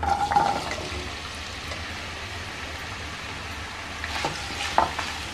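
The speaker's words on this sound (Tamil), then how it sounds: "நல்லா வெங்காயம் வதங்கட்டும்" Onions sizzling in a generous amount of hot oil in a pot, a continuous hiss with occasional stirring scrapes near the end.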